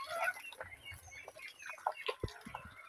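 Chickens and ducks cluck and call in the morning around a shelter during rain, a scatter of short, fairly faint squawks and clucks at varying distances with no talking.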